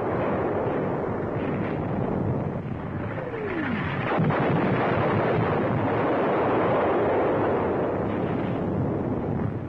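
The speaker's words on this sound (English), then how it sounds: "Direct hit on an enemy 88mm gun position." A shell explodes on an enemy 88mm gun position in the North African desert in 1942, a heavy rumbling blast inside a constant noisy roar of battle, with a sharp crack partway through.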